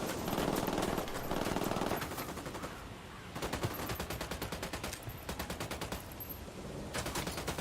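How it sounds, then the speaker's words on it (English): Light machine gun bursts in a Ubisoft shooter, rapid rattling volleys in several long strings separated by brief pauses, loud and close with no talking over them. "Might as well get my light machine gun out."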